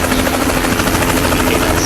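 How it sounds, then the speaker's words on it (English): Helicopter in American Truck Simulator droning steadily overhead, a loud continuous buzzing rotor hum with no talk over it. "stupid helicopter won't shut the hell up"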